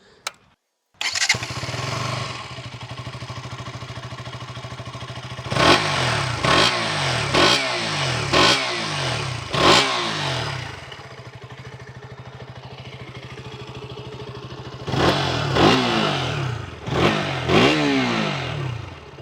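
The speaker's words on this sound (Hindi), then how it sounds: "एक बार मैं आपको इसकी एग्जॉस्ट नोट सुना देता हूँ।" A 2026 KTM Duke 200 motorcycle starts, idles with a rough thumping exhaust, then is revved hard in repeated sharp bursts, two separate groups of throttle blips.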